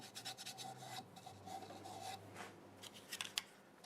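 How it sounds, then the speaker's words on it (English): Sandpaper rubbing boiled, bent cherry wood as it turns on a lathe, a faint close-up rasping scratch with a low steady motor hum beneath. "it is time to sand"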